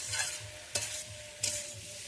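Young jackfruit frying in a pan in a village kitchen, with a soft continuous sizzle under two sharp scraping stirs and a low, rhythmic background thump.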